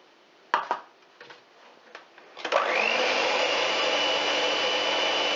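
A hand mixer whirs steadily as sugar and eggs are beaten until foamy for a spaghetti-ice-cream birthday cake, following a few light clatters of bowl and utensils.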